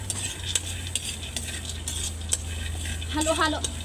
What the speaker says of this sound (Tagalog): Yung nakikita ko na parang okay nang haluin itong ating sinabag or sinangag na mais.